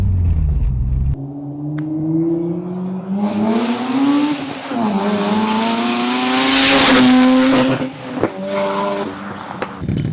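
Rotary engine of an RX-8 Turbo fitted with a Tomei full titanium exhaust, revved hard and loud up close: rising, wavering pitch climbing through several sharp pulls before settling, with brief blips near the end.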